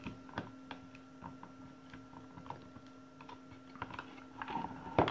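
Faint clicks and small metallic scrapes come from a screwdriver tightening a terminal screw on a circuit breaker in a distribution box, scattered irregular ticks over a steady electrical hum, with no talking.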